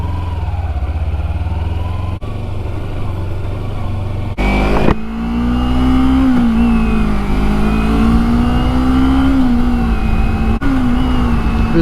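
A 2011 Kawasaki Ninja 250R engine runs loud and close, climbing through revs with a rising, wavering tone, a brief gap and restart midway, then sustained high revving.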